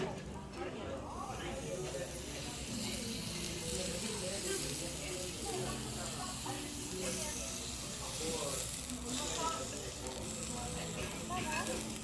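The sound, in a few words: onions frying with mushrooms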